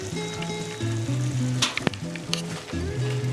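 Shrimp sizzling in a pan with soft tomato and onion, a close, steady fry with crackles and a few sharp clicks and pops as it is stirred, no voices.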